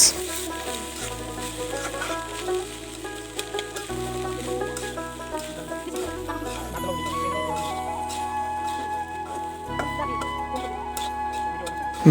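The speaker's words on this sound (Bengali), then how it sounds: "এগুলো এখন আমি মশলার সাথে মিশিয়ে নিচ্ছি সব কিছু ভালোভাবে নেড়েচেড়ে মিশিয়ে নিলেই তৈরি হয়ে গেল আমাদের দেশীয় ফ্রাইড রাইস" Bangladeshi fried rice with egg and potato is being tossed with spices in a hot pan, giving a soft sizzle and scraping of stirring that sit beneath continuous background music with sustained tones.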